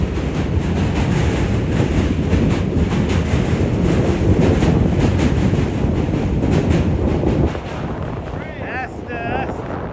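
A New York City subway train rumbles steadily with broadband rolling noise and wind buffeting, then the roar drops off near the end as it passes.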